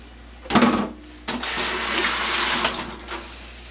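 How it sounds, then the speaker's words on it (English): Tap water running into a kitchen sink while hands are rinsed during home brewing of an all-malt Irish stout, a short splashing burst and then a steady close stream for about two seconds, no talk. "Had to rinse my hands off there."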